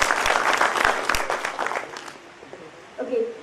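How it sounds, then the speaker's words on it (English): A short burst of clapping from a group at a graduation ceremony, loud at first and fading over a few seconds, followed by a brief voice. "Big round of applause for him."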